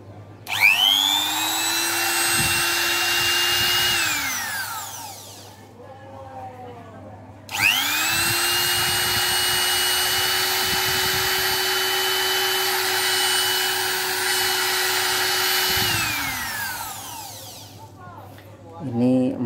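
Handheld power tool for routing wood profiles with an internal fan, switched on twice: each time it spins up to a loud steady whine with airy blowing, runs for several seconds, then winds down, with faint talk in the gaps.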